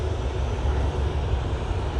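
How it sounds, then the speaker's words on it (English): An Emirates airliner pushes back at Manchester Airport, heard as a steady low engine rumble and roar that carries evenly through the whole stretch, with no talking. "We have a bit of a push going on from the Emirates."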